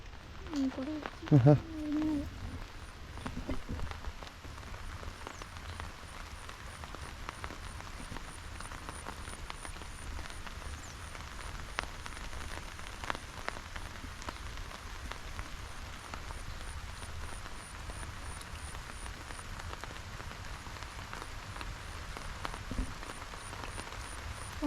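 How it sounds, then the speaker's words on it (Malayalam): Heavy rain pours steadily in the open during a fishing outing in Kerala, a dense continuous hiss of drops with a brief nearby voice near the start. "ആഹാ മഴ നല്ലപോലെ ഉറച്ചു പെയ്യുന്നുണ്ട് കേട്ടോ"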